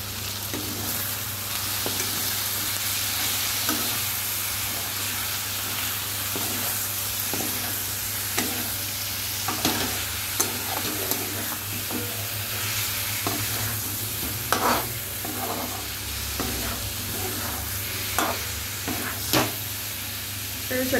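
Potatoes frying with spicy fatty chicken in a pan: a steady loud sizzle and hiss with repeated scraping stirs of a spatula, close up, continuing throughout without speech.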